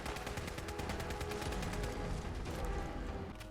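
Rapid rifle fire from the Overseer's Guardian in Fallout 4 runs as a dense, continuous volley of shots across the whole stretch, loud and steady with no talking.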